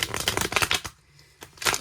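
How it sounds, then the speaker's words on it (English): Oracle cards shuffled up close, a rapid flurry of papery riffles, a brief pause, then another quick burst. "I'm shuffling, so if you have earphones on, my apologies."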